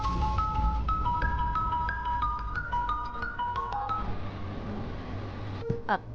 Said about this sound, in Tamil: உங்களுக்கு தான் போன் வருது